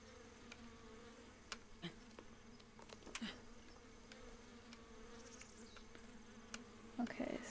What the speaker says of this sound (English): Chased by bees again, just watch.